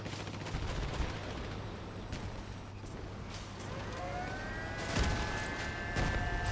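Weapon shots in Crossout, a vehicle combat game, heard as a few heavy booming impacts over a constant engine drone and hum, with several sharp hits near the end.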